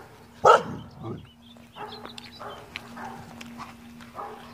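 Dog outdoors in a winter vegetable garden gives one sharp bark, then softer whimpers and whines at moderate distance, with a steady low hum beneath.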